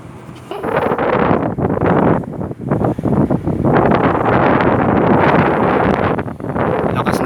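Steady, loud wind buffeting the microphone, a continuous roaring rush with brief dips, no voices.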